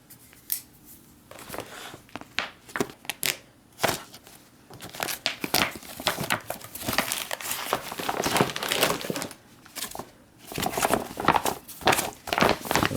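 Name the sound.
cutting open and unpacking an MRE ration pouch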